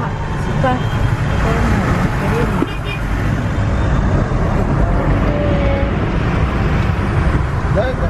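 Road traffic on a flooded street, a loud steady roar of cars, buses and trucks with occasional horn toots, continuous and close.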